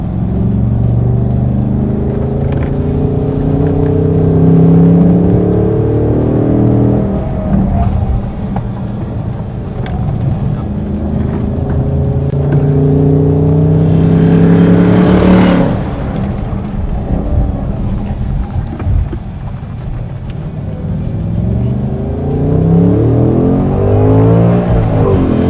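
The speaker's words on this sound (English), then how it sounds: "Backfire." A 2024 RTR Mustang Spec 2 revs and accelerates hard, its loud engine note climbing and falling through repeated gear pulls, with a sharp backfire crack partway through, heard up close.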